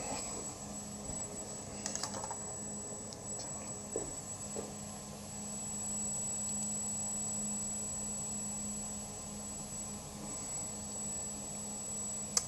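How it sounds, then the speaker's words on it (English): An automated pick and place machine runs while assembling a 20-board array of drone anti-collision strobe boards, giving a steady mechanical hum with a high whine, soft rapid clicks and a few brief taps, with no talking. "I'm about to put this 20 board array through the high-tech automated pick and place machine behind me"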